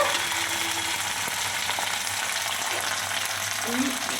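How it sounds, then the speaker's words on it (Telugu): Onion and a handful of curry leaves frying in tempering oil for a gunugu leaf curry, a steady close sizzle with light stirring, and a faint voice briefly underneath. "ఒక ఉల్లిగడ్డ కట్ చేసుకొని అందులో పోపులో వేసుకొని ఇక దాని తర్వాత కరివేపాకు ఒక మండ కరివేపాకు వేసుకొని"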